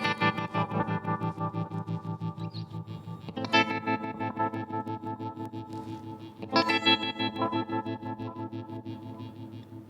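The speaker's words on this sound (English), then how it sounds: "Here we go, just the delay." Electric guitar through a Hungry Robot The Wash pedal with only the delay engaged, sustained strummed chords smeared into repeating echoes, dense and continuous, with two louder fresh strums midway, no voices.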